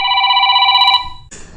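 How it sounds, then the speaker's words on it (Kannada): Outgoing smartphone call ringing back with a loud, steady electronic ring tone that cuts off after about a second, followed by a brief different beep. "ರಿಂಗ್ ಆಗ್ತಾ ಇದೆ"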